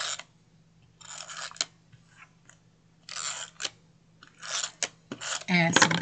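Tape runner dispensing adhesive tape onto paper squares at a crafting table, giving several short, close, crisp bursts of rasping and clicking in quick succession.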